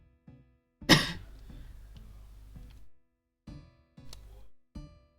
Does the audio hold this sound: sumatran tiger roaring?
no